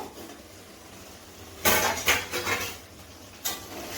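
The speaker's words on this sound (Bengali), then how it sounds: "এখন ঢাকনাটা খুলে দেখে নেব।" A metal lid lifted off a pot of Bengali-style chicken kosha after ten minutes of covered cooking, a sudden close clatter and scrape followed by a few lighter knocks, alone against quiet room noise.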